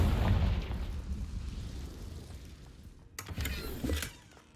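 A Confringo blasting spell explodes in the Hogwarts Legacy video game, a loud rumbling boom at the start that decays into a low roar, followed by a second burst of crackling blasts near the end.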